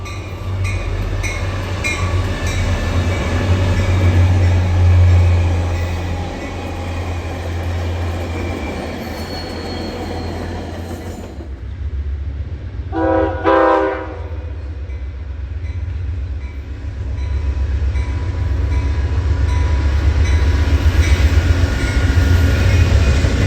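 A train rumbles past close by, its wheels clattering and squealing on the rails, with a brief lull midway before the heavy rolling noise builds again.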